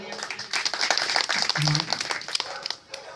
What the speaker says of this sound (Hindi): एक बार जोरदार इन दोस्तों के लिए, एनसीसी कैडेट्स के लिए बहुत जोरदार तालियां।